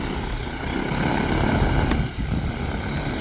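A KM70 agricultural spraying drone carrying about ten litres of water lifts off in strong wind, its rotors giving a steady, loud broadband whir that swells slightly midway and holds for a few seconds, with no talk.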